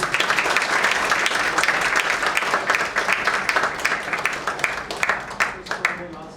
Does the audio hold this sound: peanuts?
no